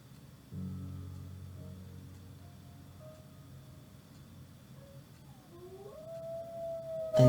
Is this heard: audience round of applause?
no